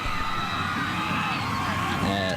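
A packed crowd at a high school state championship football game in Maine roars and cheers continuously in the distance, with a commentator talking over the top.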